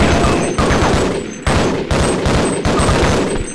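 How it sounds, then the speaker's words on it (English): Rapid bursts of MP5 submachine-gun fire in Half-Life: Opposing Force, several loud, dense volleys broken by brief pauses, close and continuous, with no talking. "Yeah, the MP5 is still not great. It's like a trash weapon."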